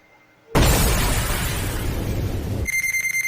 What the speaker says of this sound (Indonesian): bom meledak di rumah Kim Yu-taek.